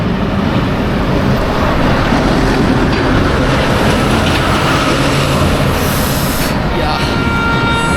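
A train rumbles along a railway track near a roadside, a loud, steady, dense roar that fills the whole stretch with no pause.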